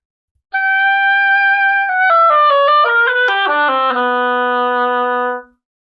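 An oboe plays measure 4 of an etude alone, opening with a long held note and then moving through a quick run of descending notes to a soft final tone.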